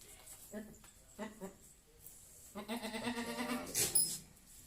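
Javanese goats, a breeding buck among them, bleat a few times in short, wavering cries, close by, with a person talking over them and other bleats overlapping near the end.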